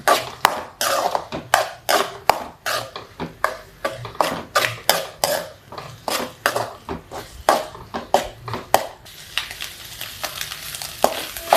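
Scrambled egg (Tamil-style muttai poriyal) being stirred in a pan: a steady run of rhythmic scraping strokes, close and fairly loud, giving way near the end to a softer continuous sizzle, no talk.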